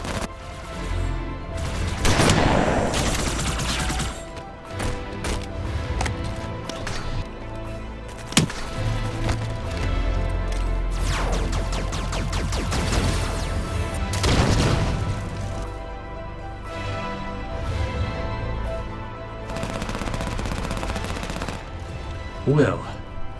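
Sustained gunfire from Halo 5: Guardians, with repeated automatic bursts and heavy shots layered in a continuous loud firefight, punctuated by sharp booms and impacts.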